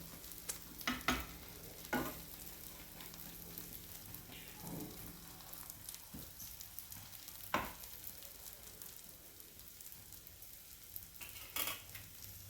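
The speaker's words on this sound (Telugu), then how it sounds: "ఒక పక్క కాలిపోయింది, రెండో పక్క టర్న్ చేసుకుంటున్నాం. రెండో పక్కన కూడా బాగా వేగనిద్దాం." A bread omelette fries in a pan with a quiet, steady sizzle, broken by a few sharp scrapes and taps as it is stirred and turned over.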